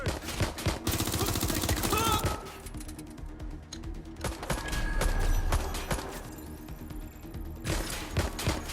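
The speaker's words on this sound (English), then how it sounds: "Shots fired!" Rapid bursts of automatic gunfire in the video game Watch Dogs: Legion rattle loudly and densely, with a brief lull midway before the shooting resumes.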